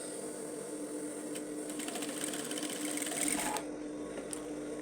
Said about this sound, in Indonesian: Kita jahit dari ujung sampai bawah ya, teman-teman.